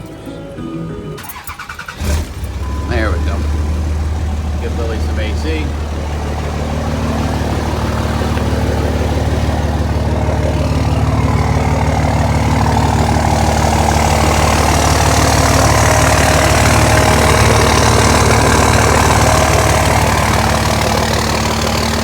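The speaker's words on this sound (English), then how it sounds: "So now I'll start the truck." A truck engine cranks over and catches, then settles into a steady, loud, low idle that runs for the rest of the clip, with a brief line of speech near the start.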